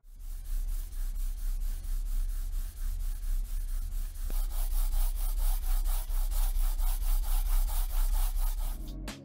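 A gaming mouse sliding back and forth across a FNATIC Jet mousepad, then a SkyPad glass pad, making a rhythmic, close rubbing swish repeated many times in steady strokes.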